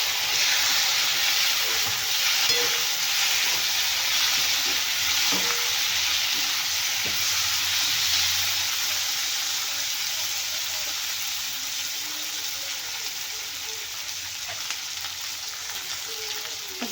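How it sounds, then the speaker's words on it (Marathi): Tomatoes frying in oil in a pan for a quick chutney give a steady, close, loud sizzle, with occasional stirring clicks and no voices. "टोमॅटो आपल्याला छान नरम शिजून घ्यायचे तेलामध्ये"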